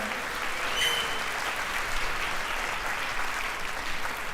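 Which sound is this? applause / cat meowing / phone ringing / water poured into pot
applause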